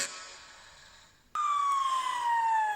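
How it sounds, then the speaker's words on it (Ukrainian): Fire engine siren wailing loud and close, with a sharp switch to a new pitch partway through and a steady falling tone afterward, no talk. "Так, малята, це пожежна машина."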